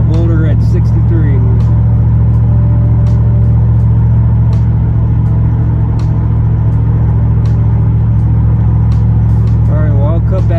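A V8 vehicle cruises at highway speed heard from inside, a loud constant low drone and road rumble with someone talking over it in places.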